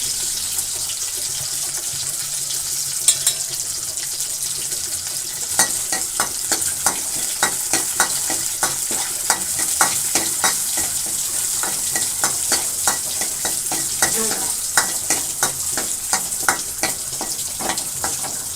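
Dried red chilies sizzling in hot oil for a South Indian lentil and greens dish, a continuous close frying hiss broken by frequent crackles and pops, with a brief metallic tap early on and no talking.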